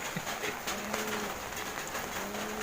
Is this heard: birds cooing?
yes